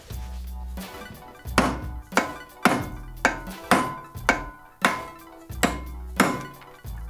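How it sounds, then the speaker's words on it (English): Hammer blows punch a rivet through the metal socket of an old garden spade, about ten sharp, ringing metallic strikes at an uneven, roughly once-a-second pace, close and loud with short decays between hits. "we're going to punch it all the way through"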